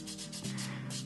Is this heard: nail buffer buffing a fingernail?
yes